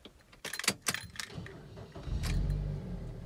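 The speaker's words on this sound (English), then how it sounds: "The car is now starting okay on its own" A car's engine turns over and catches after its dead-flat battery was revived with a high-power jump starter, preceded by keys jangling and clicks, then a steady low idle rumble settling in.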